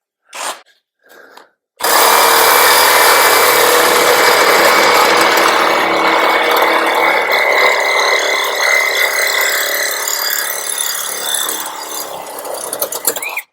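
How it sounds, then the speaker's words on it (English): A Sawzall reciprocating saw cuts into the metal of a 1956 International transfer case mount, a loud, harsh, continuous buzzing rasp close by for over ten seconds after a few brief knocks. "I'll just reach in with the Sawzall and then relieve it"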